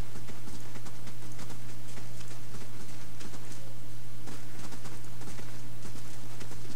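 Horse hooves clip-clop in a quick, steady rhythm in the Pillars of Eternity video game, close and loud over a constant low background hum, with no talk.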